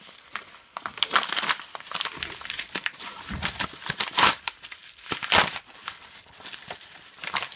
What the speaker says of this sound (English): Yeah, we're just opening it with our hands.